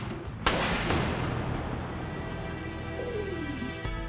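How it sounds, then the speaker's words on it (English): A sharp, loud gunshot cracks out during a gunfight, its boom rolling and echoing for several seconds, with a fainter second report near the end. "30 gunshots ring out in about 30 seconds' time."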